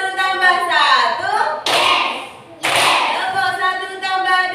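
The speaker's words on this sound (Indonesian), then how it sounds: "Tepuk 1 tambah 1." Fourth-grade pupils in an elementary classroom clap the '1 plus 1' rhythm, two loud group claps at an even pace, set between the children's sing-song chanting.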